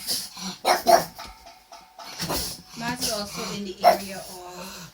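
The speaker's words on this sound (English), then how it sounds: "sorry, my dog is barking" A dog barks a few times in short, sharp bursts somewhere indoors, close by, while a person keeps talking over and between the barks.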